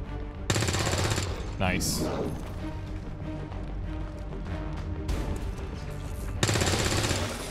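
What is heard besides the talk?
gunfire from resistance soldiers in video game XCOM 2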